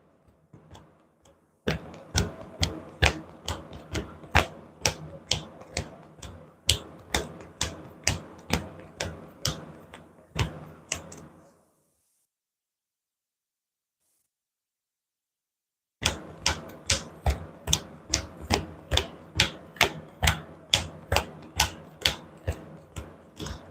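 Cards from a deck are riffled during a board game in quick bursts of sharp clicking snaps, two shuffling runs separated by a pause of silence, close and fairly quiet.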